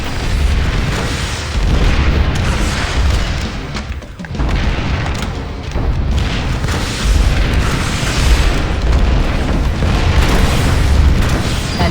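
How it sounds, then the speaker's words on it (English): Rocket launcher blasts tear into enemy Lightning tanks during a PlanetSide 2 battle: loud, dense booming and explosive roar that runs almost continuously, with one brief dip partway through. "Switch to your rocket launcher and take them out."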